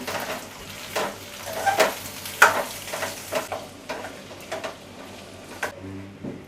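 Potato mixture stirred with salt in a pan, a steady run of soft scraping and stirring strokes with faint sizzle, close and moderately quiet, with no talk.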